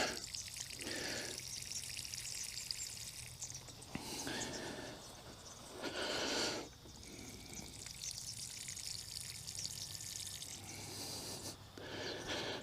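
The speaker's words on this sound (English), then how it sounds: "I'll just give that a bit of a water" Newly planted Australian wax flowers, set in gravel inside a metal guard, are watered with a steady, soft gush of running water that splashes and trickles continuously, with a few louder surges, and no talking.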